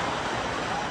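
Wave machine surf churning in a wave pool at Volcano Bay water park, a steady broadband wash of water filling the second without a break.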